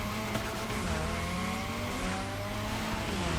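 A Mazda RX7 in The Crew Motorfest drifts with a sustained, dense engine roar and long tire squeal, loud and continuous throughout.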